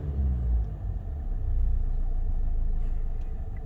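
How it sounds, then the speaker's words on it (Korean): A diesel engine running close by with a deep rumble that swells as it is revved, then holds at a steady raised drone. "악셀 한번 밟아 보겠습니다."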